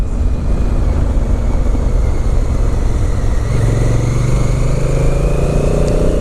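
A motorcycle on Pirelli Scorpion Trail 2 tyres being ridden, heard close as a continuous loud engine drone whose pitch climbs toward the end, with no talking.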